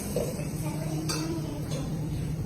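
Fried Maggi noodles stirred in a pan, giving a steady close sizzling hiss throughout with a couple of brief utensil scrapes against the metal; no talking.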